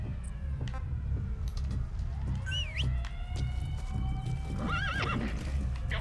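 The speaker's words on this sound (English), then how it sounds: "I might call in my horse" A horse in the video game Metal Gear Solid V: The Phantom Pain, its hooves beating a continuous galloping rhythm while a loud whinny rises in the middle and another near the end, under a steady ambient rumble.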